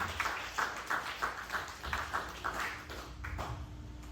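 A church congregation applauding during a service: rhythmic clapping from many hands at a steady pace, moderately loud and a little distant, with the beat continuing across the whole stretch.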